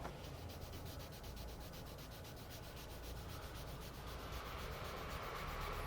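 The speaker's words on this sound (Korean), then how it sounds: "이 5000번 사포로 이 3000번 사포의 흠집을 없애줄 거예요." Sandpaper of 5000 grit rubs steadily across a car's painted surface to remove fine scratches, a continuous close scratchy hiss of sanding that stays even for several seconds with no speech.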